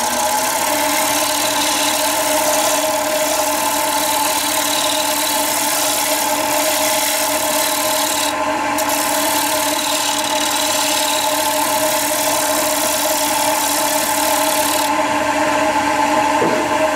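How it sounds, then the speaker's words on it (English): A steady mechanical hum with a high whine runs continuously from a spinning wood lathe, with faint scraping hiss of a shear scraper on a Machiche wood platter over it and no talking. "So I'll run this back and forth a little bit over there on a shear scraper."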